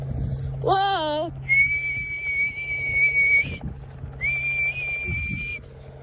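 A person outdoors at a beach field whistles loud and near, first a quick wavering warble, then two long steady held notes, with faint background noise and brief movement sounds between.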